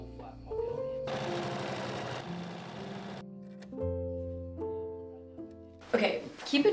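A sewing machine runs through tulle in bursts, starting and stopping with steady mechanical whirring at moderate volume, then a brief clatter at the end, with no voices over it.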